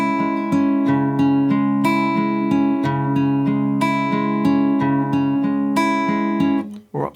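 Fingerpicked acoustic guitar plays the first bar of a song twice through, clear plucked notes ringing in a steady repeating pattern, close and alone, fading out at the end.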